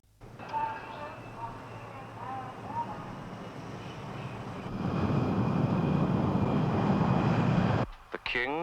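A royal plane's aircraft engine roars as a king prepares to board, a steady rumble that swells noticeably louder midway and holds before cutting off, with voices heard faintly near the start.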